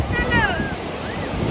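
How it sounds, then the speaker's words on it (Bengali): Big sea waves break on a beach in a steady, loud wash of surf mixed with wind rumble against the microphone, with a brief high voice or call rising over the roar. "বড় বড় ঢেউ আছে"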